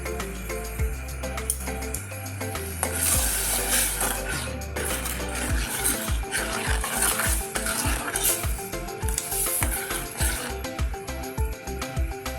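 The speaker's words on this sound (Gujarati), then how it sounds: "પછી હવે આને આપણે બરાબર ઉકળવા દઈશું।" Ragda, a pea curry, bubbles in a pan while a spoon scrapes and clinks against the metal in repeated stirring strokes, close-up over a steady sizzling simmer, with no talking.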